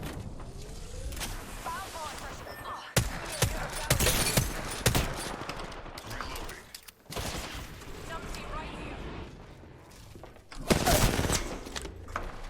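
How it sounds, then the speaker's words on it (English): Bursts of video game gunfire, repeated rapid volleys and single loud shots between quieter stretches, with game voices talking over the shooting. "Pulling the trigger."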